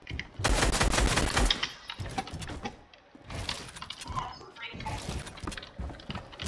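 Rapid bursts of automatic gunfire in a shooter video game, loud at first, then choppier shots mixed with clatter, with game audio and voices underneath.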